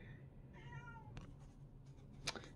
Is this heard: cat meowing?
yes